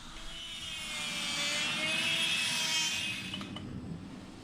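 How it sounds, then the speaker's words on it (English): Die grinder working the corner around the eye of a forged steel hammer, a steady high-pitched grinding whine that swells in the middle and then eases off, heard alone and fairly close. "I'm going to use the die grinder to grind off the corner around the eye here"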